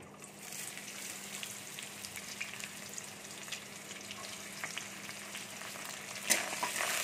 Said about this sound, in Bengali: আমি এবার পেঁয়াজ কুচিগুলো দিয়ে দিচ্ছি